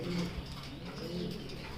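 Racing pigeons cooing in a loft, a steady low murmur of soft repeated coos at moderate level with no talk.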